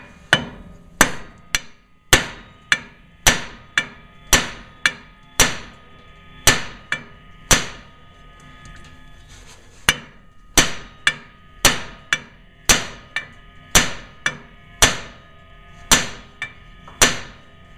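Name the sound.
hammer striking to break loose a GMC K1500 ball joint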